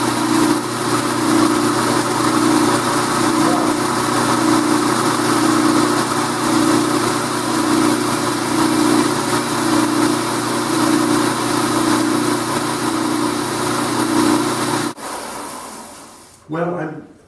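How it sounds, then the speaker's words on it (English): A 6x48 inch belt and 12 inch disc sander runs with a loud, steady motor drone and humming belt for about fifteen seconds, then spins down to quiet with a faint clunk. "Looks like I can make the sanding belt track exactly on the center of the rollers"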